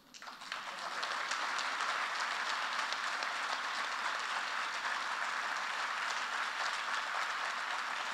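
Audience applause following a speech at a public event, a steady, dense wash of many hands clapping that swells within the first second and holds at an even level throughout, with no talk over it.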